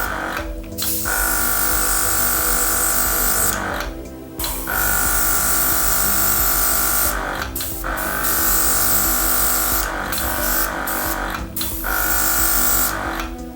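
Budget airbrush driven by a small compressor sprays Army Painter paint in a steady, loud hissing buzz, cut by a few brief pauses where the trigger is released.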